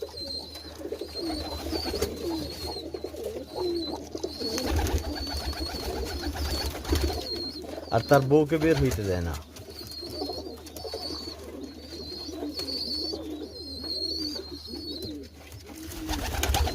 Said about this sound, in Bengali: বলতে না বলতে একটা কবুতর আসছে